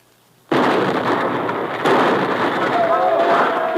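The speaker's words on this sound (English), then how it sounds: "uncorks both grenades and lobs them down beside the fence" Grenade explosions staged as a radio drama sound effect: an abrupt, loud blast erupts after a short quiet, then a second burst follows, with rumbling, crackling debris sustained to the end.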